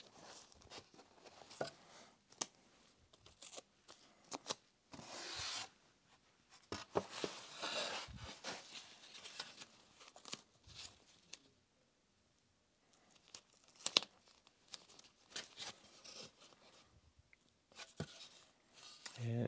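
Scotch painter's tape being torn and pressed on while covering the tail surfaces of a scratch-built RC plane, giving a run of close crinkling, ripping and tapping handling noises, with brief pauses and no talk.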